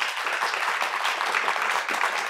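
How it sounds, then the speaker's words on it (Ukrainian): An audience claps during a heated political debate: a dense, steady wash of applause that carries on evenly throughout. "Я просто чекаю закінчення аплодисментів"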